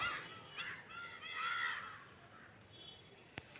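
Several crows caw in a loose burst, fairly close, then taper off into quieter background, with a sharp click near the end.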